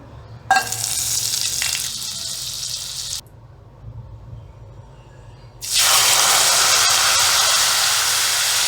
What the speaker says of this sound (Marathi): कढईत आपण 1 डाव तेल घेतलेलं आहे आणि बटर।